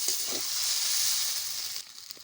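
Chow mein noodles frying in hot oil give off a loud, steady sizzle and hiss that fades slightly toward the end, with a few faint clinks beneath.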